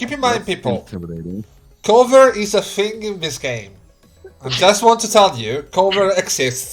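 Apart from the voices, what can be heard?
No distinct noise like a dog, phone or traffic.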